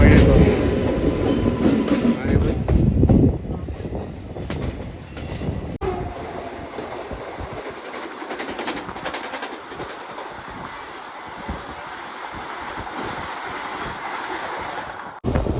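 The Ratnachal SF Express runs along the rails, a loud steady rumble with rhythmic wheel clatter and brief squeal, heard from inside the carriage, fading to a lighter rattle.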